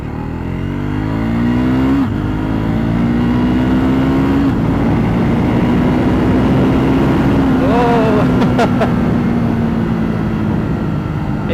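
A Triumph Scrambler 400X motorcycle engine roars loudly and continuously as it accelerates through the gears, its pitch climbing and dropping with brief shifts, close to the rider.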